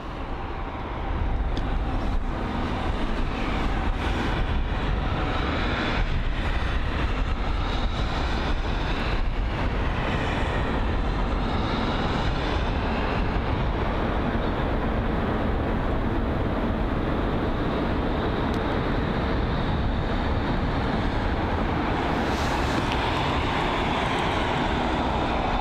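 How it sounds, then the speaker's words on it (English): A Boeing 737-700 jet on a UAE Royal flight at London Heathrow airport gives off a loud, steady engine roar that holds without a break for the whole stretch, with no voices. "737-700 registered Alpha 6 Romeo Juliet Victor, and it's a UAE Royals flight from JFK"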